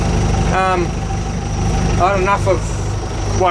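A Fiat 780 tractor engine idles with a steady low rumble throughout, close by, while someone speaks briefly over it.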